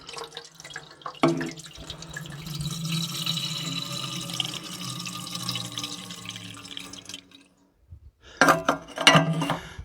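Water pours steadily into the tank of an Allis tractor, a continuous splashing rush that stops abruptly, followed by a few sharp metallic clinks.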